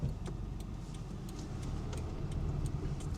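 Car turn signal clicking during a Florida driving test maneuver, an even run of light ticks over a low idling engine rumble.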